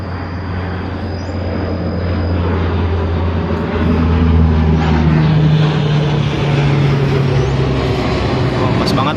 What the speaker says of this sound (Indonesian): pas banget lagi ada pesawat di atas